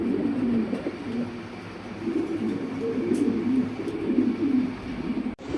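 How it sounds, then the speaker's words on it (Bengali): Pigeons coo continuously in low, throaty, overlapping calls at close range, a dense flock of mixed breeds kept at a pigeon market, with no talk over them. "অনেক কয় জাতের কবুতর দেখা যাচ্ছে ভাই।"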